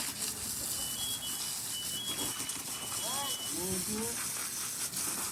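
A water hose sprays with a steady, soft hiss during firefighter decontamination after a fire, a continuous wash of spray running beneath people talking nearby.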